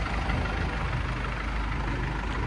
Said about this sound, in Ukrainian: Двигун працює нормально,